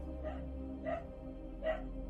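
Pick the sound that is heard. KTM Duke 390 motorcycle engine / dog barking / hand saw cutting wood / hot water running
dog barking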